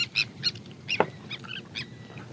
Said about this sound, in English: Oh, besides a bird.